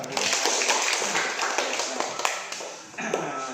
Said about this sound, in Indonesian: Kita beri tepuk tangan untuk Farel.